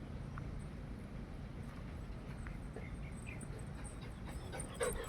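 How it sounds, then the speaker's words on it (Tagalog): A Belgian Malinois pants steadily in an open field, a soft, continuous breathy rhythm that stays faint beneath broad outdoor background noise. "Hinihingal na to."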